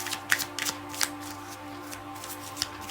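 Lenormand cards are pulled from a deck and shuffled during a card reading, with crisp papery riffles and slaps in irregular bursts over a faint steady hum, close and moderately loud, with no talking.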